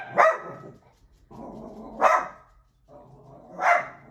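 A puppy barks three times, about one and a half seconds apart, close and clear, with short growly sounds between the barks.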